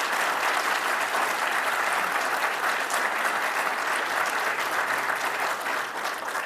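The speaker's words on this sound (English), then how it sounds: "I think they deserve a big round of applause for all they've done." A crowd at a university building groundbreaking ceremony claps in sustained, dense applause that holds steady and loud throughout, easing slightly only at the very end.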